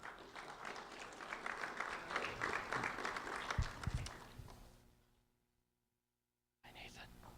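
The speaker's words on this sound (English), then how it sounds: "a round of applause for Nathan Roberts Penley" Audience applause at a school recognition ceremony for a student, moderately loud clapping with a few thumps and voices, cutting to near silence before a brief burst of sound returns.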